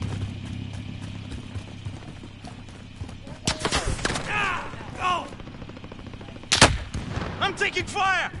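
Gunfire in a video game, several loud bursts of shots and impacts mixed with scattered metallic clatter, heard alongside voices.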